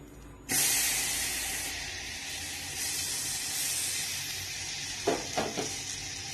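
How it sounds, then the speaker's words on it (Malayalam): Cooked banana tipped into a hot uruli bursts into a loud close sizzle that slowly eases to a steady frying hiss, with a few stirring scrapes near the end. "ഇപ്പോൾ നമ്മൾ ഉരുളി അടുപ്പത്ത് വെച്ചിട്ടുണ്ട് നന്നായി ചൂടായി വന്നിട്ടുണ്ട് അതിലേക്ക് നമുക്ക് ഈ പഴം വരട്ടിയതൊന്ന് ചേർത്ത് കൊടുക്കാം"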